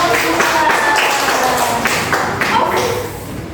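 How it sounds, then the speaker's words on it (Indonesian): Students in a classroom clap for a group, a close, loud patter of many hands that stays dense before easing slightly at the end, with a little talking mixed in. "Tepuk tangan untuk kelompok 2."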